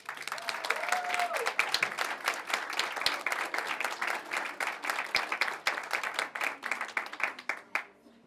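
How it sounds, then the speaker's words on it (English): A room at a school board study session breaks into a big round of applause, dense steady clapping from many people that carries on for several seconds before thinning out at the end, with a brief voice near the start. "And a big round of applause."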